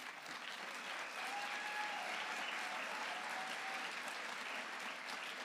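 A large conference crowd applauds in a sustained, even wash of clapping, heard from a distance and fairly soft, with no speech on top.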